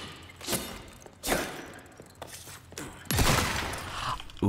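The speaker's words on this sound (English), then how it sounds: "Oops, I used my shotgun ammo on it." Shotgun blasts in Resident Evil 4 Remake, several heavy separate booms spaced a second or so apart, loud and close, with game ambience between them.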